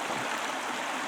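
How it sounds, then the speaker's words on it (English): A native brook trout stream in Allegany State Park rushes steadily, a continuous broadband wash of flowing water close by with no voices. "Here we are at the stream again."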